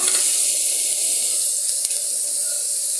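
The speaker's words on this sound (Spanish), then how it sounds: "Vamos a comenzar con la mantequilla. Vamos a echarle la cebolla." Onion, with garlic, sizzles in melted butter for a mushroom cream pasta sauce, giving a steady, close, bright hiss that runs unbroken from start to finish with no voices.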